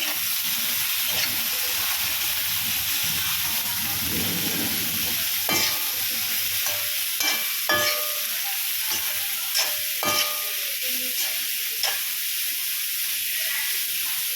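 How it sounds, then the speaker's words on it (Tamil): Cut broad beans stir-fried in a hot pan for a lentil usili dish give a steady close sizzle throughout, broken by sharp scraping clinks of a spatula turning them. "அவரைக்காவை சேர்த்துக்கிட்டு நல்லா பரட்டி விட்டுக்கலாம்"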